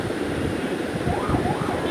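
Lychee jelly mixture coming to a rolling boil in a pot, a steady dense bubbling and churning roar that holds loud and even throughout.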